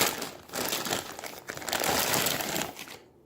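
A small podcasting mixing console is unboxed, with continuous close crinkling and rustling of packaging material for about three seconds before it stops abruptly.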